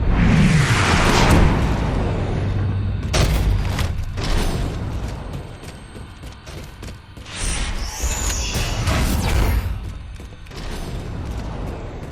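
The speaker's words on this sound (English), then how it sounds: "This elevator should take us directly to the coordinates Infinity provided." A game elevator in Halo 4 rumbling and clanking on its way up, with mechanical grinding, creaks and heavy thuds that swell and fade over a steady low drone, no voices.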